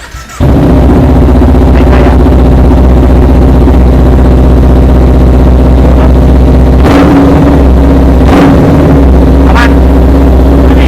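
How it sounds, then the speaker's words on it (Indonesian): A Kawasaki Ninja 250 motorcycle engine, running oddly after a crash, idles loudly and steadily nearby, its low rumble interrupted by a few brief irregular bursts and hiccups. "Tapi ini motor masih nyala, Bang. Tapi suaranya aneh."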